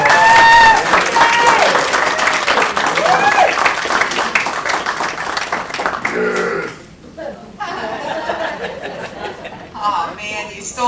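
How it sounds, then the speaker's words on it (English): An audience at a live workshop applauds the master of ceremonies, with clapping mixed with chatter and chuckles that thins out midway as voices carry on. "So let's give a round of applause."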